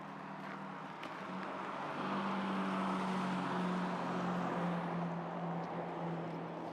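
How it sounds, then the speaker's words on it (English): Road traffic passes by in Centralia, Pennsylvania, a steady moderate engine hum and tire rumble swelling as a vehicle goes past at mid-distance, with wind noise and no talk. "I didn't realize there'd be this much traffic coming through."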